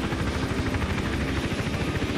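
Helicopter flying in Hitman: Absolution, a steady loud rotor chop with rapid rhythmic blade thumping and engine roar filling the whole stretch, close and continuous with no talk.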